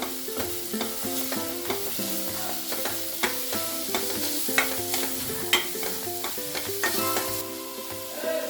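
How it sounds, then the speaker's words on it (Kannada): Vegetables and masala for millet hakka noodles are stirred in a pan, with repeated scraping strokes over a light sizzle and soft music in the background. "ಮತ್ತು ಚೆನ್ನಾಗಿ ಸ್ಟರ್ ಮಾಡ್ಕೊಳ್ಳಿ."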